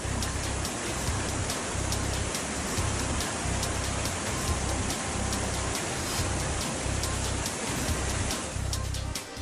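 Heavy, continuous rain falling in Kanyakumari district, a dense steady hiss filling the clip with a rhythmic low thumping underneath and no voices.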